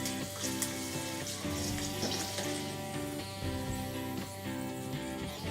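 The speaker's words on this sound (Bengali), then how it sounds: "এই যে আমার পাঁপড়গুলো প্রায় ভাজা হয়ে গেল।" Papad frying in hot oil in a home kitchen: a dense, steady sizzle and crackle with bubbling, a musical tone running underneath throughout.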